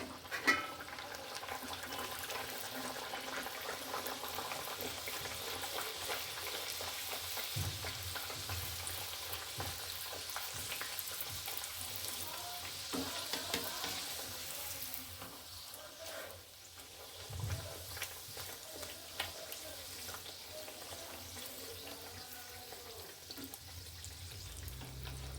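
Pea-stuffed kachori sizzle steadily in hot oil in a pan, a continuous crackling hiss with occasional bubbling bursts and faint stirring, no talking.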